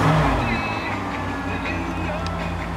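A 1988 Chevy Silverado 1500 with a 305 V8, just after a cold start, runs as a steady, fairly loud low engine drone throughout, with no distinct rev peaks.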